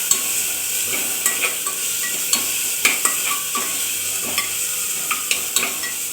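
Ground wet spice paste (vatan) fries in oil in a pan for green pea rice, a continuous hiss of sizzling with repeated scraping and clinking of a spoon stirring against the metal pan, close and clear.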